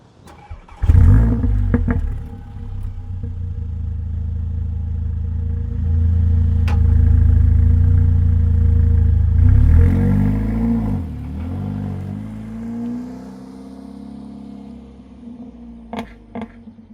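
A Mercedes-AMG A45 4MATIC+ (W176) engine cranks and fires with a loud burst, settles into a rumbling idle, then revs and pulls away, engine note rising and falling as the car drives off, with a few clicks near the end.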